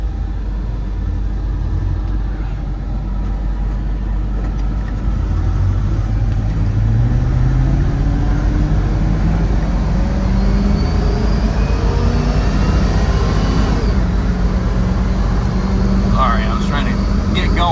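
A 1979 Ford F150 XLT Ranger 4x4 pickup with a 351 engine rumbles steadily at close range while driving, with the pitch rising and shifting as it moves, and people talking over it.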